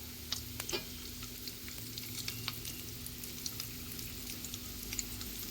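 Cashews fry in hot oil, sizzling steadily with scattered crackles and pops, a soft close frying hiss punctuated by a few sharper spits and a light stirring scrape.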